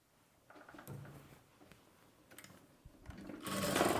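A sewing machine stitches a churidar slit in short bursts, with quiet pauses between runs and a louder, sustained stretch of motor whir at the end.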